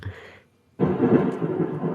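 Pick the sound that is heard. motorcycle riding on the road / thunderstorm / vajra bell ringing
thunderstorm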